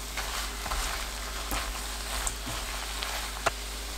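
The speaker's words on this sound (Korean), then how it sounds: "들깨가루 듬뿍 3큰술 넣고 섞어가면서 1분 더 볶아주세요" Oyster mushrooms stir-fried with perilla seed powder crackle in a pan in a steady sizzle, with a few soft spatula scrapes and taps over the frying, and no talking.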